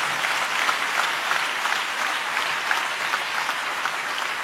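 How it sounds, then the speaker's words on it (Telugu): A church congregation claps together in praise of God, a steady, even roar of many hands filling the room for several seconds without talk. "చప్పట్లు కొడుతూ దేవునికి స్తోత్రాలు చెప్దాం."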